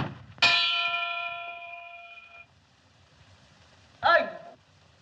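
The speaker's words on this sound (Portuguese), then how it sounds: "mal soasse a badalada de uma hora na Torre de São Denis" A church tower bell at the Torre de São Denis strikes once, loud and close, with a long ringing hum that fades over two seconds; a shorter, sharper metallic strike follows a moment later.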